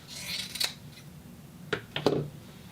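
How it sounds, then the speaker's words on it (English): Scissors snipping through fur fabric while a garment wrap is sewn, a few quiet, soft crisp cuts close by, with a gap between them and a short cluster near the end. "So this is the piece I'm cutting."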